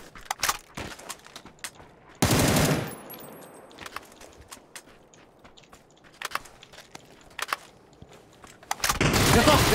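A UMP submachine gun fires in a video game in two dense, loud bursts of rapid automatic fire, separated by scattered sharper single reports and clicks.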